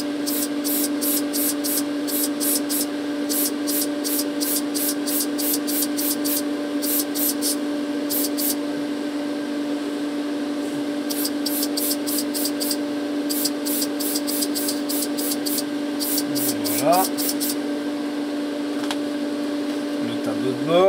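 An airbrush lays a light coat of paint on a Renault 5 Alpine scale model, a steady compressor hum under repeated short bursts of hissing spray in quick rhythmic groups, close and continuous.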